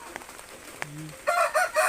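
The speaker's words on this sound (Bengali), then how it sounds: "দেখতেই পাচ্ছ এখানে এই ছটা মোরগ বাচ্চা দেখতে পাচ্ছ, ছটা মেয়ের বাচ্চা আছে" Chickens and young chicks in the rain, with brief clucking and chirping calls that rise to a cluster of louder, closer squawks near the end.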